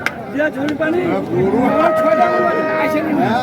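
Cattle low loudly and close by at a livestock market in Dinajpur, Bangladesh, in long, drawn-out moos, with people's voices and chatter in the background.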